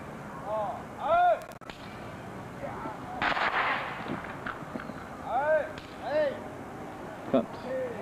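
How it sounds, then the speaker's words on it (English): Film-set special effects squibs pop in sharp bursts amid background chatter and shouted voices, with several brief loud cracks scattered across the scene. "This is the explosion device."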